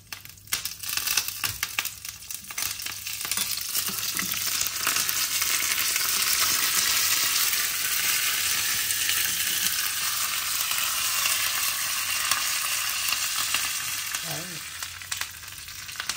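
Mustard seeds crackle and fry with a dried red chili in hot oil, a loud dense sizzle swelling and holding steady close by, with a few stirring scrapes near the start and end.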